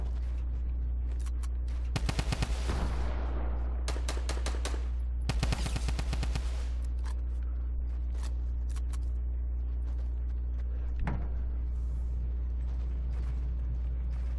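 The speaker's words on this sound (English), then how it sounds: "Who's shooting at who from where?" Video game gunfire crackles in rapid automatic bursts around two and five seconds, then thins to scattered single shots over a steady low hum.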